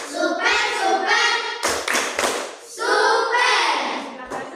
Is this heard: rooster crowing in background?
no